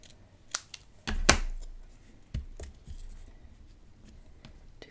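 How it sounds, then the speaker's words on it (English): Scissors cutting paper for a Stamperia forest-themed mini album, a few short, quiet snips with one louder cut, close by, with no talking. "I think I want to cut this side off though."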